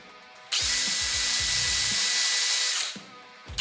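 A brass-bristle brush scrubs a Lesney 64A-2 diecast car casting, giving a close, steady high-pitched whirring whine that runs for about two and a half seconds and then stops.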